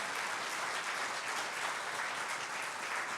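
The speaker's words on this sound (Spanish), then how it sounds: "Denle una ofrenda de palmas al Señor" A church congregation claps together in a dense, steady wash of applause, sustained and fairly loud from start to finish with no voices breaking through.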